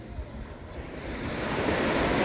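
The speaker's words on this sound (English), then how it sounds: "So this is the surrounding beach, and look at this beautiful water." Ocean waves wash onto a beach in Bucerias, Mexico, a steady soft roar of surf that swells louder toward the end, with light wind and no voices.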